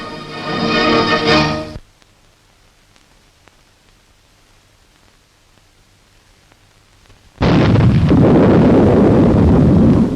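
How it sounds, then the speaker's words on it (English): Anti-tank guns fire in a desert battle in Libya against Italian tanks. A loud, noisy blast opens, quiet follows for several seconds, then a sustained roar of heavy fire or explosions comes in, close and harsh. "There go the anti-tank guns, and another Italian tank and its crew out of action."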